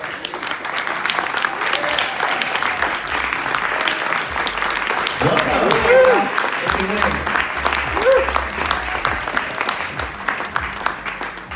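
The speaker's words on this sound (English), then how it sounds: "let's give her a big round of applause" A big round of applause welcomes Julia Wass, a fitness coach, to the stage, with sustained crowd clapping that holds steady for over ten seconds and carries a couple of brief cheers or whoops near the middle.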